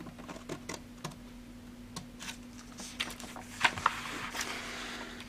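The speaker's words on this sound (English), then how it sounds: "cut that piece off" Scissors cutting a tab from a bullet journal page, quiet close snips and a few faint clicks over a steady low hum, with no talking.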